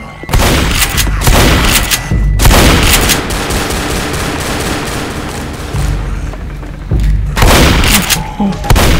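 Repeated pistol gunshots fire at zombies in Left 4 Dead during the No Mercy campaign, loud bursts of cracks in quick clusters that ease off midway and then return near the end.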